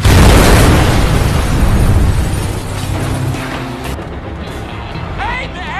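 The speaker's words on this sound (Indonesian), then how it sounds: "terjadi ledakan akibat drum berisi penuh minyak" An oil drum filled with oil explodes in an action scene from the film Bad Ass, a loud deep boom with a long rumbling, crackling roar that slowly fades, followed by faint squeals.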